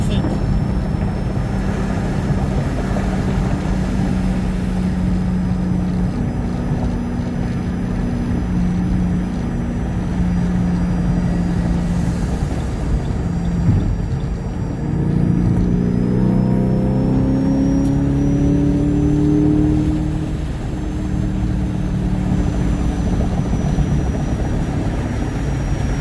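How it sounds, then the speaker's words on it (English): Road traffic with cars driving past, a steady engine rumble and drone that swells with accelerating vehicles midway, continuous and fairly loud, with muffled voices underneath. "It's all this traffic."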